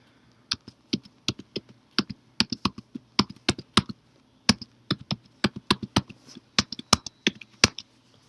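A long passphrase is typed on a computer keyboard: quick, uneven bursts of crisp key taps, close and clear, with short pauses between runs.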